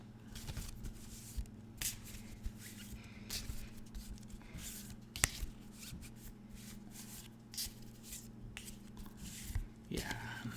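Tarot deck being shuffled by hand at close range, soft papery riffles and slides recurring in short bursts over a low steady hum.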